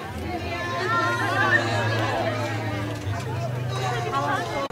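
Hungry crowd chattering steadily at a school lunch as staff and students serve food, a dense babble of many voices close by with a low hum underneath.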